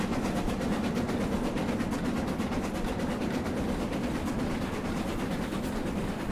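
An AI-driven train runs along a model railway in Train Simulator 2016, with a steady engine drone and a rolling rumble of wheels over the track. The sound stays continuous and even, with no speech.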